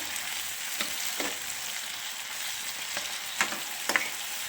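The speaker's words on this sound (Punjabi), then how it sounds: "ਟਮਾਟਰਾਂ ਨੂੰ ਆਪਾਂ ਥੋੜਾ ਜਿਹਾ ਹਿਲਾ ਕੇ ਤੇ ਭੁੰਨ ਲਾਂਗੇ" Tomatoes fry in a pan with a soft continuous sizzle, punctuated by occasional spatula stirring scrapes and taps, fairly quiet and close, no speech.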